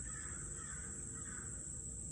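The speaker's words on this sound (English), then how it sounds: "5 crows. 6 crows." Several crows cawing outdoors, heard faintly and at a distance over a steady background hiss, with no voices.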